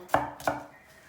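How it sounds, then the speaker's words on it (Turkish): Two crisp knife chops strike a cutting board in quick succession as an onion is chopped, close and clear, with no voices. "Soğanımızı doğrayacağız."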